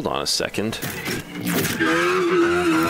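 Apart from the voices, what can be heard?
Nissan S14 car engine in video game NFS Unbound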